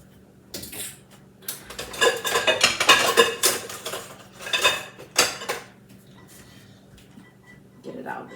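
A spatula pulled from a dish drainer sets metal utensils and dishes clattering in loud, irregular bursts, with a voice talking around the rattling.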